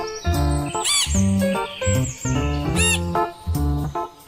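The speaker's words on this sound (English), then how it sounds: "parrot" A parrot gives a series of loud, close, shrill calls and sweeping squawks in irregular bursts, several in quick succession.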